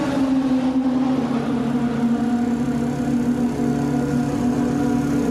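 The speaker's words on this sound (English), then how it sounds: "that's the sound of IndyCars here at COTA, Circuit of the Americas" IndyCars race at Circuit of the Americas outside Austin, Texas, their engines a steady droning roar with shifting tones, heard continuously from some distance with no talk.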